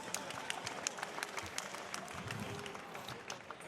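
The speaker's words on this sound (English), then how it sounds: "Give Don Moore a big round of applause." Applause from a crowd at a boxing event in Abu Dhabi, a dense and steady wash of clapping that lasts throughout, heard at moderate distance with faint voices mixed in.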